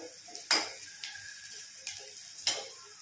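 Onions frying in a pan on a home stove, a soft steady sizzle broken by a few sharp scrapes and clinks of a spoon stirring, with no one talking.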